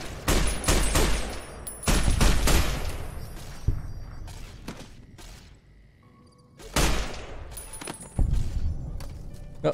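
Gunfire in Fallout New Vegas, several loud rapid bursts of shots in two clusters with a quieter lull between them.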